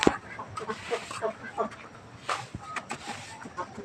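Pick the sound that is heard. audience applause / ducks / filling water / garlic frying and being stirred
ducks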